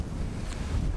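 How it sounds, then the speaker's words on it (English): Gusty wind buffets the microphone outdoors during a Michigan deer hunt, a continuous loud low rumble with no speech. "I'm trying to hide the camera from the wind."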